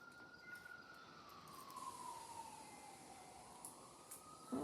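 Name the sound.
ambulance siren in the distance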